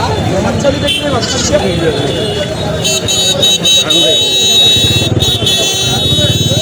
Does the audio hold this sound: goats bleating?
yes